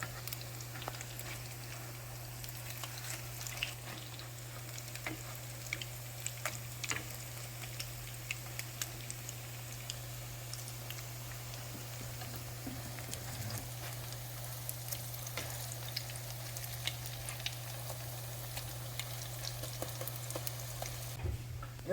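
Salmon patties frying slowly in a pan over lowered heat, a faint steady sizzle with scattered small pops and ticks throughout, over a constant low hum, with no talking.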